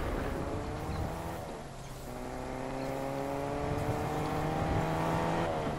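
A car in a video game drives with a continuous engine drone rising and falling in pitch as it accelerates and shifts, fairly loud and steady with no talk.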